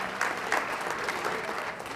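Steady applause from a crowd at a Greater Wichita Football League academic and behavior awards event, dense continuous clapping at even volume throughout with no one speaking.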